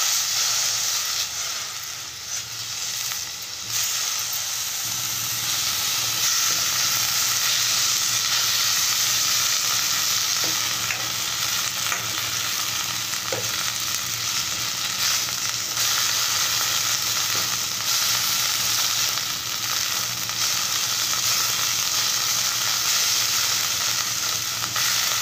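Mint leaves sizzle steadily in a little oil in a kadai, a dense, even frying hiss that runs unbroken throughout with no voices.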